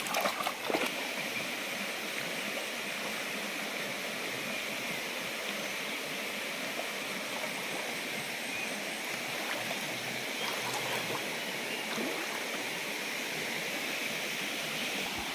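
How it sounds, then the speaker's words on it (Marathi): A river flowing in a village setting during crab catching, a steady broadband rush of water that fills the whole clip at moderate level with no pauses. "नदीचं वातावरण बघा, एकदम मस्त आहे."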